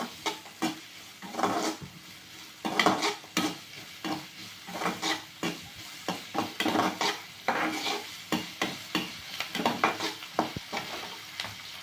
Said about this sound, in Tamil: ஆட் பண்ணி இதையும் நல்லா வதக்கிக்கலாம்